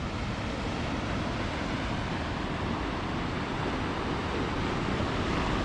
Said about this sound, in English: The waves is ripping in there.